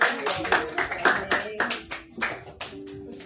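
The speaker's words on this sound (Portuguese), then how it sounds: "Palmas para Jesus." Scattered clapping from a church congregation comes in uneven bursts, with voices speaking and calling out between the claps.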